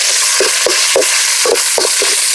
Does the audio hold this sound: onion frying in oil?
yes